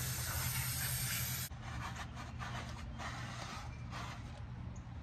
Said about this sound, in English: We got to spray out this drum,